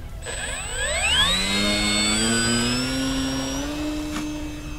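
The electric motor of a Durafly Tundra RC plane fitted with large Tundra wheels spools up for takeoff, a rising whine that levels into a steady, close buzzing drone, with no voices.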